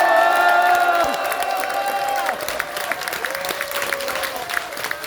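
Audience applause with some cheering at a political rally launching a new party, loud clapping with tonal music fading in the first two seconds, then steady crowd clapping continuing to the end.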